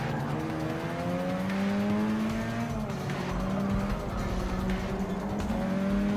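A Mazda RX-7 race car in Forza Motorsport 6, its engine droning loud and close with rising and falling pitch through gear changes, with brief tire squeals along the way.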